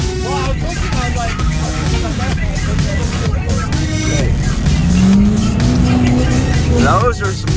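Twin turbo Duramax race truck revving hard with tires squealing, a loud continuous engine roar and a rising squeal near the end, with voices talking over the noise.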